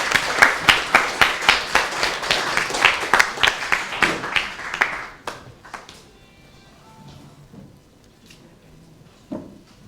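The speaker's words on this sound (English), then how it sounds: "Round of applause for Sister Shahd." An audience gives a round of applause after a poetry reading at a talk on Palestine: dense, steady clapping for about five seconds that then thins out and fades to a few scattered claps.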